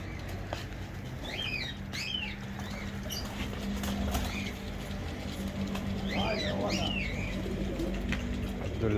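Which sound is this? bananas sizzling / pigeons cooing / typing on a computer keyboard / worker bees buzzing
pigeons cooing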